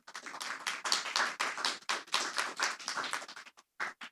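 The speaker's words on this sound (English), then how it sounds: "Can I please ask you all to give a round of applause to Miss Sarah Curran, Mr. Michael Byrne, sorry, and David Richardson" A workshop audience at a gambling-industry event claps for panel speakers, a dense, close round of applause that thins into a few final isolated claps before stopping.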